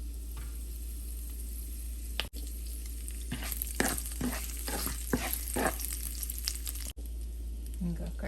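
Cumin seeds and curry leaves hit hot oil in a pan, setting off a sudden loud crackling sizzle with bursts of spitting that settle into a steady fry, close by with no voices.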